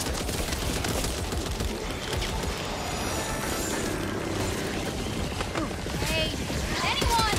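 Dense, rapid gunfire from the co-op zombie shooter Back 4 Blood on PS5, played on nightmare difficulty, rattling on almost without pause for the whole stretch, loud and close, layered over a thick wash of chaotic battle noise.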